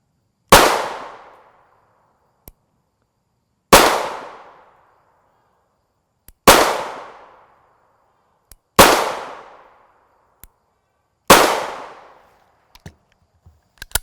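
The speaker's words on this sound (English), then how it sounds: "we're only going to fire 5 rounds of each barrel length to get our velocity" A 9mm pistol fires five 91-grain PTP rounds outdoors, with sharp loud reports spaced a few seconds apart, each trailing into a short decaying echo. Faint clicks and small knocks follow between the shots.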